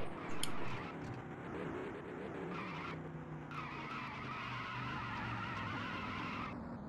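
Race car with a blown engine in a racing video game at Sonoma, heard as a steady rough engine drone with tire skidding and squeal, a brief louder burst at the start.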